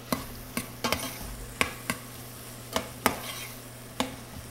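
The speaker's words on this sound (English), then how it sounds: "onions and our cabbage get sauteed. Move that around" Onions and cabbage sautéing in butter for a Bavarian cheddar soup, a soft low sizzle under a string of sharp spoon knocks and scrapes against the pan, spaced irregularly.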